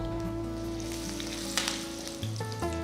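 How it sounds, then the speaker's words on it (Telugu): Mustard seeds spluttering and popping in hot oil for tempering, alongside dried red chillies, asafoetida and fresh curry leaves, a steady close sizzle with scattered crackles and a few louder pops, no voices. "చూడండి ఆవాలు చిరపడలాడుతున్నాయి"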